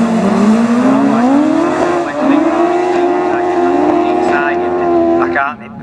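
Race cars on a circuit, a loud, sustained high engine whine that rises and holds as the cars pass close, with brief dips in pitch and a squealing, skidding edge before it fades at the end.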